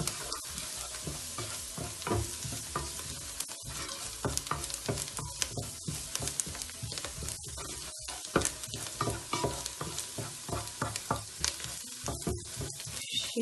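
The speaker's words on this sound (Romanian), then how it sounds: "Adăugăm lingura de făină și o călim puțin și pe ea." A spoonful of flour is sautéed in a pan for a hake seafood sauce, sizzling steadily while a utensil scrapes and stirs in irregular close clatters and scuffs throughout.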